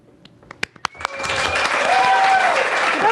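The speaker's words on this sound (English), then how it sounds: "Big round of applause for the Icehouse" Audience applause for the Icehouse hosts at a startup meetup in Auckland, opening with a few scattered claps that quickly swell into sustained, dense clapping from a crowd.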